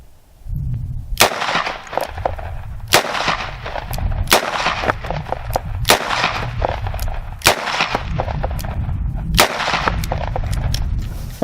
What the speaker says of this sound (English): I'm just going to fire 6 more 357 Magnum rounds into it